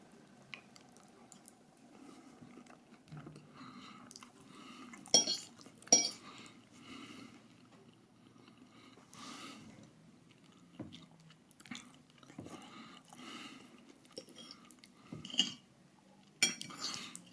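Cutlery clinks against a plate and chewing follows while tasting a pastry-free egg, bacon, mushroom and cheese pie. There are a few sharp metallic taps over soft, intermittent mouth sounds, close and quiet.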